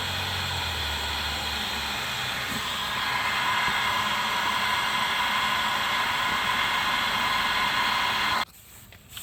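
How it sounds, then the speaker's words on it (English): A heat gun blows hot air onto a stuck part on a 2011-2023 Dodge Charger 3.6L Pentastar during engine and transmission removal, a steady whooshing hiss that stops abruptly near the end. "You already know we're using the heat gun."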